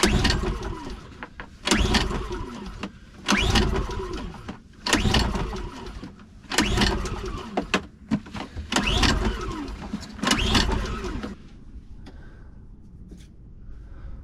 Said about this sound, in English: Started for like a second, but she ain't starting now